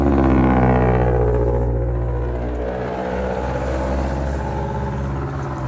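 A car engine rumbles and revs nearby, swelling loud at first and then settling into a steady drone as vehicles pass, with no voices.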